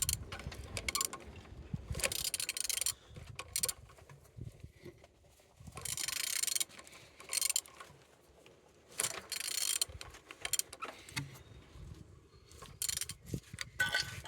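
An aircraft engine turned slowly by hand gives quiet intermittent mechanical clicks, ratcheting and whirring, in uneven bursts separated by near-silent gaps.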